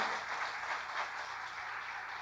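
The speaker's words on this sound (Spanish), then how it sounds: "Dale un aplauso al Señor" A church congregation breaks into steady applause, a thick continuous patter of many hands clapping together at an even level with no voices over it.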